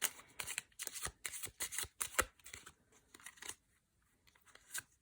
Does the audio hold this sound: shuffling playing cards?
yes